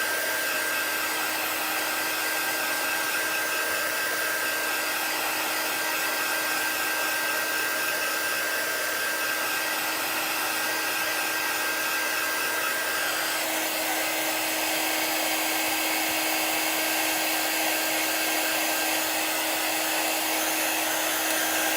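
A hair dryer blows steadily and loudly for the whole stretch, drying chalk paint on a craft project, with a constant whine and no voices over it.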